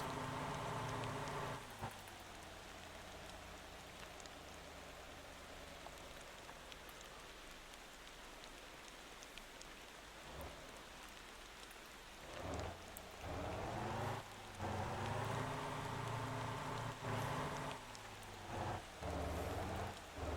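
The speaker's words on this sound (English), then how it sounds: "I don't think the rain is helping me here." Steady rain pours in the driving game Motor Town, a dense hiss of drops on surfaces with low rumbling underneath, continuous throughout and swelling louder with rolling thunder-like surges in the later seconds.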